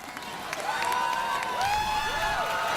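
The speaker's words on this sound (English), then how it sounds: "imploring the crowd to cheer him on even louder, and the crowd responding." A crowd at an American Ninja Warrior course cheers and shouts encouragement at a competitor on the cargo net obstacle, the noise swelling after the first half-second into sustained, excited yelling.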